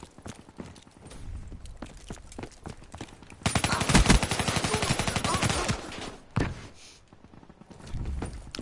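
An SMG (the Kuda) in Black Ops 3 multiplayer fires a loud, rapid sustained burst of a couple of seconds, with shorter shots and game footsteps and effects before and after.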